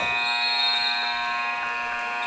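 A loud, sustained electronic buzzer blares alone at the end of a quarter in a high school basketball game between Orangeville Prep and Lincoln Prep.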